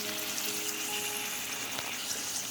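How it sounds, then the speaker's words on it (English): A garlic ribeye steak sears in a skillet with a constant, even hiss and light crackling that stays steady throughout, close and unbroken by speech. "You want to let it sear on each side for about 2 minutes."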